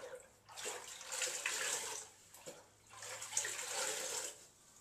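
Water sloshing and running as a sponge is rinsed during bathroom cleaning, two separate swells of splashing and trickling, close and moderately loud.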